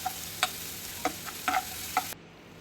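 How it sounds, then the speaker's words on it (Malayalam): Beef chukka with garlic and ginger being stirred and fried in a pan, a low sizzle under a handful of scattered scraping clinks from the spoon, fairly quiet and close, stopping abruptly near the end. "വെളുത്തുള്ളിയും ഇഞ്ചിയും അതും കൂടെ ചേർത്തിട്ട് നല്ലപോലെ മിക്സ് ചെയ്ത് കൊടുക്കണം, ഇളക്കി കൊടുക്കണേ"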